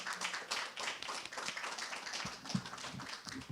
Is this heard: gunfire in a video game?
no